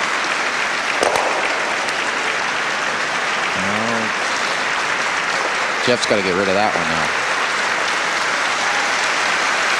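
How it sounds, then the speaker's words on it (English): Audience applause at a curling match, steady broadband clapping that fills the whole stretch, with a commentator talking over it and a couple of brief tonal calls partway through. "And that round of applause is for Bob Benson's team"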